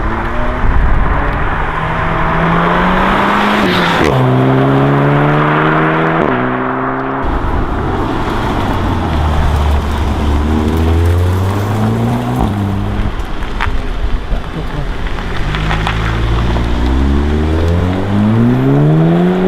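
A Volkswagen GTI with a 2-liter turbocharged engine of 261 horsepower revs hard in Need for Speed, climbing through repeated gear changes. The engine is loud and close, rising in pitch, dropping at each shift and pulling up again.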